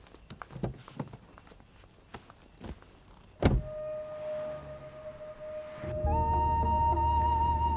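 A car in a night scene: a few sharp clicks and a door-like thud, then the engine catches and settles into a steady low running hum with a rising whine as it pulls away.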